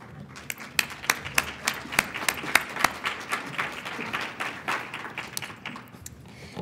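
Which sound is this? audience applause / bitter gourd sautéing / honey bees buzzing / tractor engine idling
audience applause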